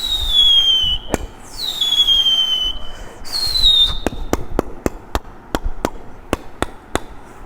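A voice mimicking fireworks rockets at a college cultural fest, with three rising whistling launches followed by a rapid string of sharp, loud cracking bangs.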